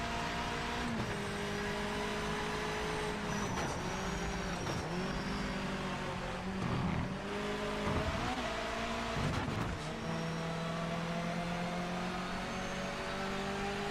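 MX-5 Cup race car engine in the Project Motor Racing video game, a continuous loud drone rising and falling through repeated upshifts and throttle dips, steady and close without any voices.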